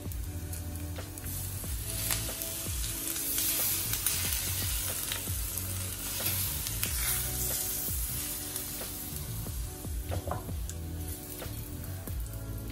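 Hot oil poured over Sichuan peppercorns, dried red chilies and garlic for spicy Chinese noodles sets off a loud, continuous sizzle and crackle that runs steadily throughout, close up and with no talking.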